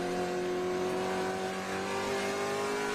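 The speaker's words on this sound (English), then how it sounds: "You can hear from the way he's using the throttle as well." A race car at Watkins Glen drives through the bus stop chicane, its engine holding a steady, sustained note with smooth throttle and heard from a distance at moderate level.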